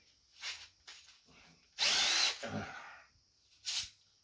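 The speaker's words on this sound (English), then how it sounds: "I'm just gonna give this a hone job" Drill-powered hone spinning inside the cylinders of a Slant 6 engine, heard as a loud abrasive whirring burst of about half a second, with shorter scraping and rubbing noises before and a final brief burst.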